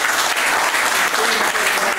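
Steady applause from an audience at a fishing competition event, dense continuous clapping at moderate volume lasting throughout without pause.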